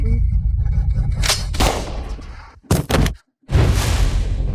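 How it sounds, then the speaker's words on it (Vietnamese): Gunshot effect in a Vietnamese gambling drama: a few sharp cracks and thuds, then abrupt silence before a burst of noise resumes. "Tôi không bắn trúng ông ta."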